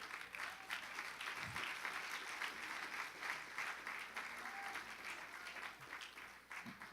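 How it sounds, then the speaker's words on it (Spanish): Steady applause from a church congregation during a sermon on ministry, fairly faint and continuous throughout without any speech over it. "¿por qué aplaude?"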